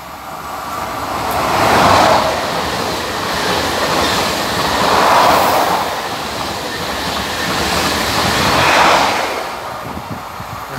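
Omneo Premium double trainset 603XL and 606XL rolling through Lisieux station toward Paris: a loud, sustained rumble and wheel noise that swells in repeated waves as carriages pass close by.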